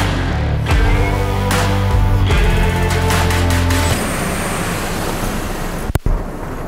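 A Toyota Hilux diesel engine drones with a steady low rumble and broad noise on top, shifting partway through, and a sharp knock near the end.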